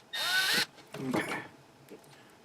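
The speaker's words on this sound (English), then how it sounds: "I'm going to drill some holes down here." A power drill bores holes into the housing of a 1922 Chelsea Model 50 audio transformer, giving a loud whining burst, then a rougher, grinding second run that fades to quieter handling noise.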